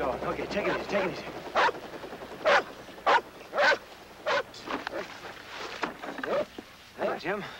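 A dog barks repeatedly outdoors near a stream bed during a search, loud sharp barks in an irregular series over talk and background noise.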